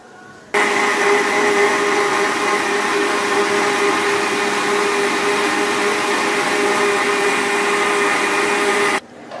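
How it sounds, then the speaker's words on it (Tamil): A mixer grinder blending cream runs at full speed with a steady high whine, starting abruptly and stopping about nine seconds later, loud and close. "இதை மிக்ஸி ஜாலில் போட்டு மிக்ஸியில் போட்டு"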